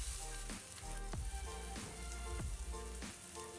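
Ground spice paste fries in three to four tablespoons of hot cooking oil, a steady close sizzle broken by recurring crackling bursts, with no voices.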